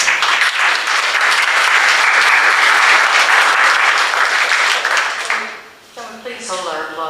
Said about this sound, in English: Please hold our applause till everybody's finished.